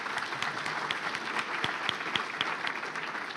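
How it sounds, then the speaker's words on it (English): Audience at an alumni awards event during homecoming weekend breaks into sustained applause, a dense, even clatter of many hands clapping throughout. "Let's give a round of applause for that."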